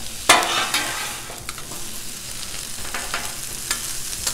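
Onions sizzle on a Blackstone griddle, a steady crackling fry broken by sharp scrapes and taps of a spatula stirring them, close and fairly loud.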